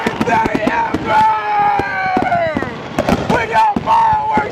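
Backyard fireworks at a birthday celebration crackle and pop in sharp bursts beneath loud, excited shouting voices that dominate throughout.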